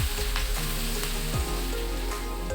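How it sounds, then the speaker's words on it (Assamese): Onions sizzle steadily in a pan, a close, even frying hiss layered over a low mechanical hum. "পিঁয়াজখিনি মই ভালদৰে ৰঙচুৱা হোৱালৈকে ভাজি লৈছোঁ।"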